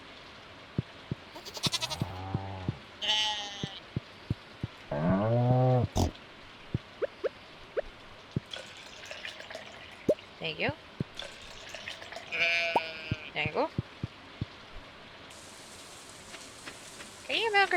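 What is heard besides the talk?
sheep bleating in a farming video game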